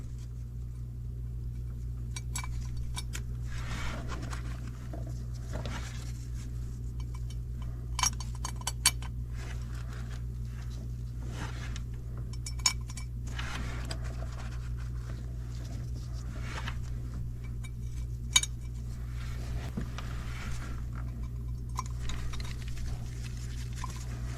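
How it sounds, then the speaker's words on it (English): Bolts for an oil cooler being fitted one at a time on a Mercedes Sprinter 3.0L van, giving faint, sparse metallic clinks and taps over a steady low hum. "So now I'm gonna start installing the oil cooler bolts, just one at a time."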